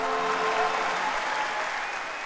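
An audience applauds the Southern Lights show, a dense, steady wash of clapping from many hands that stays loud and even throughout before easing slightly at the end.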